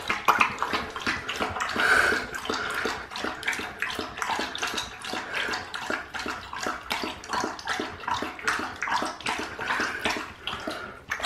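Water running steadily from a tap into a bowl for a dog at home, a continuous splashing gush with gurgling and sloshing, close by and alone.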